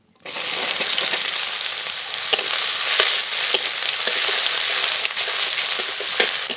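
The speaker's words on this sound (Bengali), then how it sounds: "পেঁয়াজটা একটু ভাজা ভাজা করে নেব" Chopped onions fry in hot oil in a pan over a bay leaf and whole cumin tempering for a fish curry. A loud, steady sizzle runs throughout, with occasional clicks of stirring and no talk.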